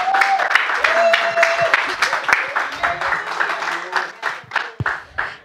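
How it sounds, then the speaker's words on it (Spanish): A gathering audience claps after a singer is introduced for a duet, producing crisp, scattered hand claps throughout, with cheering voices mixed in before the clapping thins out near the end. "Un aplauso,"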